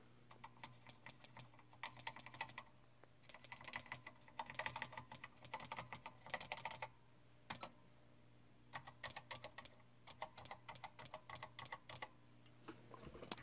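Typing on a National CF-3300 computer keyboard, bursts of rapid clicky keystrokes in quick runs separated by short pauses, close and quiet over a low steady hum, with no talking.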